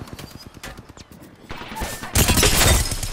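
Havoc energy rifle firing in Apex Legends, a rapid burst of loud shots that builds in the second half, preceded by lighter clicking and scattered game sounds.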